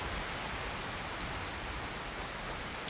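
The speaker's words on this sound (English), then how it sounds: "I'm sick to death of this much rain." Steady rain falls in Skyrim Special Edition, a continuous even hiss of drops with no breaks or other sounds, soft and unchanging throughout.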